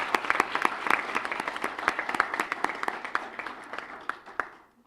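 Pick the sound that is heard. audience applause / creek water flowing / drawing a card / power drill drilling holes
audience applause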